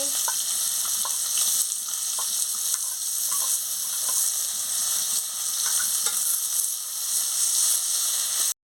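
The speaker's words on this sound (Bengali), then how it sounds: "তেল গরম হয়ে গেছে, আমি পেঁয়াজ কুচিটা দিয়ে দিচ্ছি, দিয়ে ভালো করে ভেজে নিচ্ছি।" Chopped onion fries in hot oil in a steady, loud, continuous sizzle with soft stirring clicks, cooked for a Bengali spicy fish curry after the fish is lifted out.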